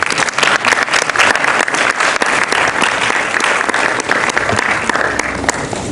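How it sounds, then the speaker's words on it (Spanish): An audience applauds a doctor arriving to speak at a morning university lecture, a dense, steady clapping from many hands that stays loud for the whole stretch. "Recibámoslo con un fuerte aplauso."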